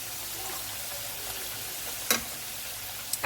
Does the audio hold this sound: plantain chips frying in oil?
yes